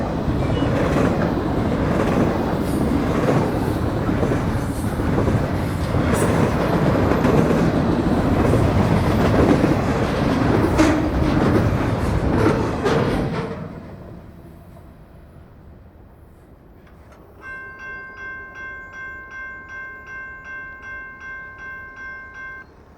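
A freight train hauling 53-foot domestic high cube containers rumbles and clatters past loudly for about thirteen seconds, then drops away to a quiet background as a faint pulsing electronic tone sounds.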